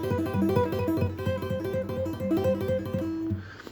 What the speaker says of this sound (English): we're going to look at some cool introduction finger tapping ideas for acoustic guitar